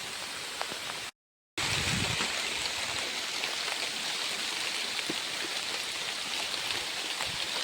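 Rain falls outdoors in Eluru district during wind and rain at a cashew fruit picking, a steady soft hiss with scattered drip ticks, briefly cut out near the start, with no talking.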